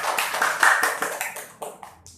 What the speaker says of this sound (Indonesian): Kita tepuk tangan dulu Amanda.